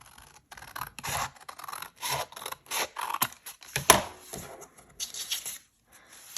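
Scissors snip through a book page being trimmed for junk journal ephemera: a close, dry series of about a dozen irregular cuts and paper scrapes, with short pauses between bursts and no talking.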